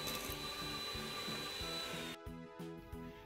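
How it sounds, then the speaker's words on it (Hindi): An electric hand beater whirs steadily as eggs are beaten one at a time into almond cake batter, a loud continuous mechanical drone with a pulsing rhythm that shifts in tone partway through. "इसी तरह हम 1-1 अंडा डालते जाएंगे और इसे हम बीट करते जाएंगे।"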